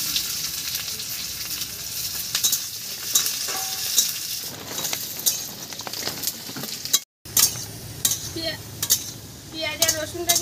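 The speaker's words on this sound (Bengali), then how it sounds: "পেঁয়াজ আর রসুনটা কিন্তু আমার একদম লাল করে ভেজে নেওয়া হয়ে গেছে।" Onion and garlic sizzle steadily while frying in a pan, with repeated stirring scrapes and the occasional clink of a utensil against the metal throughout, as chopped garlic and onion cook for a taro-leaf dish.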